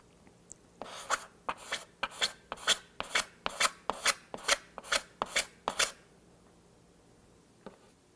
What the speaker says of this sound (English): You're going to level it with the second step here, which is using some sandpaper with that Corian block I showed you earlier.